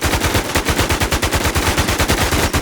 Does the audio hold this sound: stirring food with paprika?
no